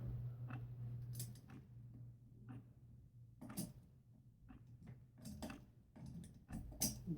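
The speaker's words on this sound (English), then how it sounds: "now I'm going to take the screwdriver and just finish tightening them" A screwdriver tightening screws on a ceiling fan, heard as sparse close clicks and ratcheting mechanical taps separated by pauses over a low hum.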